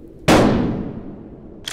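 A single loud, close gunshot fires in the video game Farmer's Father: Save the Innocent, with a long ringing decay; another shot begins just as it ends.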